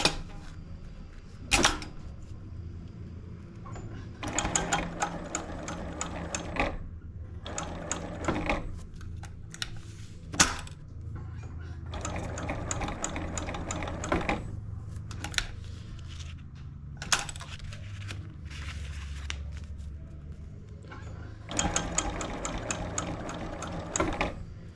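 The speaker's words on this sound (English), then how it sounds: "And now let's stitch this up." A sewing machine stitches a SkyTie slider keeper with safety velcro. It runs in several short bursts of rapid, rhythmic needle clatter separated by brief pauses, close and fairly loud, with no talking.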